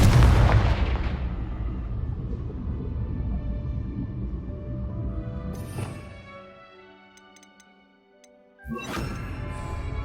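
A Confringo fire spell cast in the game Hogwarts Legacy: a loud, close blast at the start that decays into a rumble, then two more sharp bursts later, over sustained game music.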